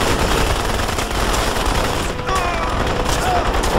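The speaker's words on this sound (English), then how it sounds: "Who's shooting me back here?" Dense, continuous gunfire from several shooters in the video game Crysis, a steady rattling fusillade that fills the whole stretch at a loud level, with a few faint sweeping effects near the end.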